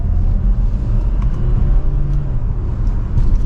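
A 2025 Kia Sportage Hybrid X Line Prestige in sport mode, shifted by paddle, gives a gentle engine and road rumble from inside the cabin during a mild acceleration, steady and low.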